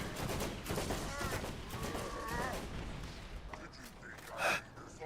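Gunfire and grenade blasts crackle through a desert firefight in the video game Borderlands, a dense steady barrage with a louder burst near the end, under someone talking excitedly.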